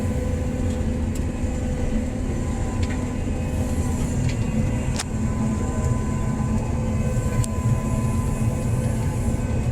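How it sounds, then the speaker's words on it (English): A four-wheel-drive hydrostatic combine harvester runs steadily through a soybean field on hilly ground, its engine and machinery giving a continuous close-up rumble and drone with occasional clicks and rattles, and no one talking. "I run the 4-wheel drive full time on my combine"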